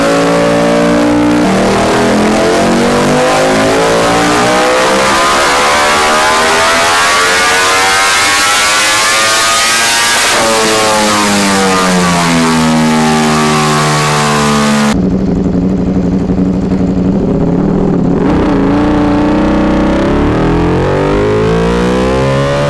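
A Ducati Desmosedici RR motorcycle engine revs hard and repeatedly, its loud, high-pitched wail rising and falling in long sweeps, ending in a sharper, raspier burst.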